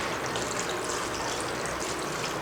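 Water drains from a strainer of boiled vegetable noodles that were just rinsed with cold water, a steady soft hiss and trickle that stays even throughout with no voices.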